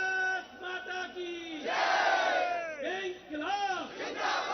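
A crowd of protesting MPs at the Parliament building sit-in chants slogans together, loud rhythmic shouted calls rising and falling in waves, close and continuous.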